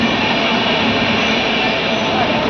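Steady, dense rumble and hiss of a passenger train running past Delhi, heard from a seat inside the carriage, a constant rolling roar with no breaks.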